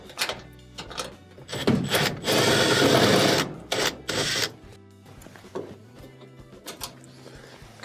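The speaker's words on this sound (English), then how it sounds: "there's a couple of screws that'll need to be removed" A power screwdriver removes screws from an oven panel during a range repair, with several short whirring bursts close up. A longer buzzing run sits in the middle, separated by light clicks and handling noises.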